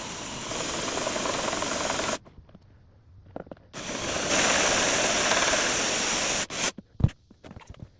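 Power drill running slowly in reverse to cut a hole in a thick plastic tub for a honey gate, a steady loud whirring grind in two long bursts split by a pause, then a few brief knocks and scrapes at the end.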